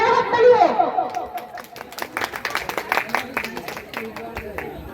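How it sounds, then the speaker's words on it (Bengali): Applause for performers at a cultural event, a burst of clapping from an audience that builds after a voice and continues steadily, with light chatter mixed in. "আরেকটা ওদের জন্য জোরে হাততালি হোক"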